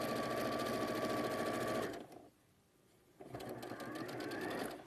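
Sewing machine stitching fabric at a steady fast whir, running loud for about two seconds, pausing briefly, then starting up again and continuing to the end.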